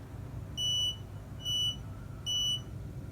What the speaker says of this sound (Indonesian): Jadi otomatis alarm anti maling bekerja dengan membunyikan buzzer sebagai outputnya.